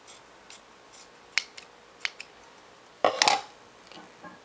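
Scissors trim material for a handmade eyelash and nail art storage case. A few crisp, isolated snips come up close, then a longer rasping cut, all in quiet surroundings without speech.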